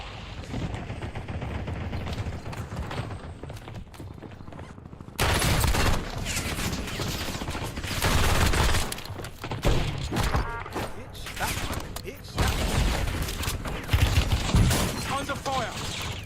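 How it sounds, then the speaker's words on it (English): Dense, loud gunfire from the Warzone video game, with bursts of shots and thuds running almost continuously over roughly sixteen seconds. "Under fire."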